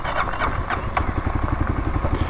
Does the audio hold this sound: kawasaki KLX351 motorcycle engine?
yes